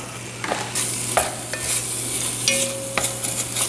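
Beef browning in a pot for homemade beef stew: a constant close sizzle with intermittent sharp scrapes and clinks of a utensil stirring, and no voices.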